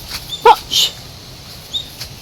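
A dog gives a few short, sharp yips and a brief whine close by, with quiet pauses between them.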